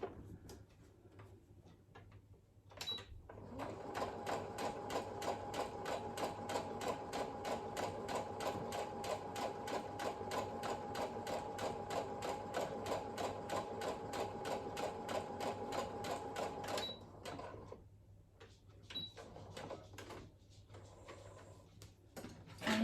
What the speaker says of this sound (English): I'll take the speed down, because we know I don't sew fast